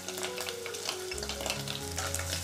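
Pork belly and minced garlic stir-frying in hot oil, a dense continuous crackling sizzle held at an even level with music playing underneath, close and fairly quiet with no voices.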